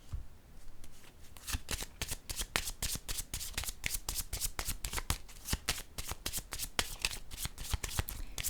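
A deck of cards, likely oracle or tarot, is riffled and shuffled close up in a fast, steady run of crisp flicking bursts before a card is drawn, with no talking.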